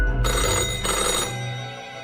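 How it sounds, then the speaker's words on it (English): A telephone in the game Feline Filings rings with a loud, continuous metallic bell clatter that fills the whole moment and fades slightly toward the end, with no voices. "The phone rings."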